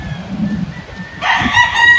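A rooster crows on a large farm in the Philippines, one loud, close call that breaks in partway through after a low rumble of background noise.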